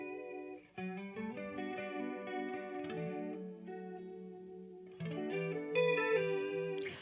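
Electric guitar played through a strong chorus effect, shimmering sustained chords and single notes ringing out with a swirling, doubled tone, close and moderately loud with no talking.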